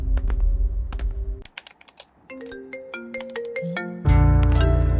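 A phone rings with an incoming call, a loud, clear melodic electronic ringtone with stepped tonal notes playing alone up close.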